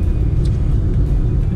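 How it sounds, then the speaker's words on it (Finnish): An oncoming car drives past on the road, a loud steady low rumble of engine and tyre noise filling the whole moment, close by and uninterrupted. "Oi, mikä auto tuli vastaan."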